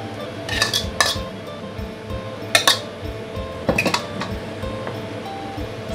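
Stir-fried basil beans scooped from a pan onto a plate, with metal utensils clinking and scraping against dishes in several sharp bursts over a soft, steady kitchen hum.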